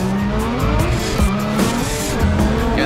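A 2JZ-powered Toyota Supra drift car at a Formula Drift event in Seattle, its engine roaring loud and steady while the tires squeal continuously through a slide, with the sound wavering as the car drifts.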